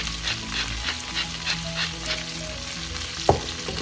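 Ingredients for mung bean soup sautéing in a pan with a little salt, a continuous close sizzle with soft stirring scrapes and one sharp clink near the end.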